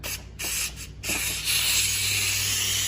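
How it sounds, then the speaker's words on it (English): Steam hisses steadily from a cooker vent covered with a towel, a broad continuous rush that briefly dips a few times early on before settling into an even, sustained spray with no one talking. "what it's gonna do is reduce the steam that comes from the vent"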